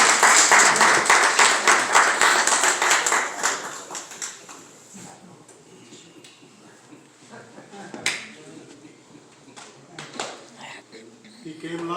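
Audience clapping hands at a clergy council holiday brunch: a dense burst of applause that fades out over several seconds, leaving quiet room noise with a few scattered sounds afterward.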